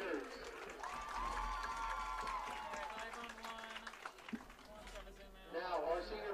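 A crowd at a school senior festivities event applauds and cheers for the senior cheerleaders, steady clapping with a voice over a loudspeaker talking across it, swelling again at the end.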